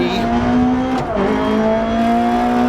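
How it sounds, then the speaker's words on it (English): A Fiat 131 Abarth rally car in DiRT Rally 2.0 howls loudly at high revs, pitch dipping briefly with a gear change before climbing again in a steady, close engine drone. "I'll let you have a listen on the engine of this Fiat 131 Albert."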